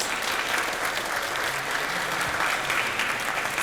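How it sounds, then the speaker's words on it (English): Audience at a panel discussion on medicine and disruption gives the panelists a loud, dense round of applause, sustained evenly throughout with no voices over it. "So a round of applause for our wonderful panelists."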